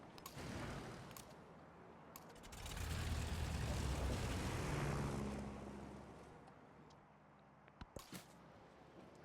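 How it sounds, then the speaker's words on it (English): A heavy bomber aircraft in the strategy game Civilization VII: a propeller engine drone swells up, peaks loudly for a few seconds and fades, followed by a few sharp clicks. "We'll purchase a heavy bomber here to throw in this aircraft"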